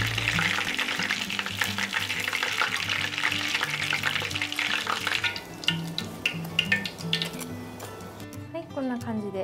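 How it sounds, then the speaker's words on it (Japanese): Shrimp and shiso gyoza deep-fry in oil with a dense, steady sizzle and crackle, close up. Scattered clicks and light clatter come over it, and the frying fades near the end as a brief tone takes over. "で、揚げていきます。"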